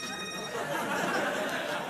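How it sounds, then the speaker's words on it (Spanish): A mobile phone ringtone plays faintly in a room, a steady electronic tone with a few thin high notes, heard alone without talk over it. "yo le puse al mío el mismo ringtone que el tuyo"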